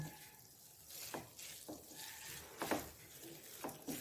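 Paneer is stirred into a roasted mixture in a pan for barfi, producing faint, close scraping strokes over a low sizzle, several soft sweeps in a slow rhythm.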